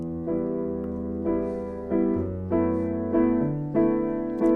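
Piano plays the simple chords of a song with held left-hand bass notes and a bouncy off-beat right-hand chord rhythm, several clear repeated stabs in a steady pulse, solo and unaccompanied by talk.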